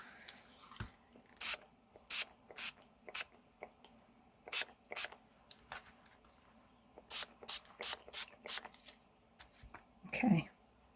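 Short sharp hisses from a water spray bottle used on ink in an art journal, fired in a series of quick separate pumps, some in rapid clusters, close and fairly faint.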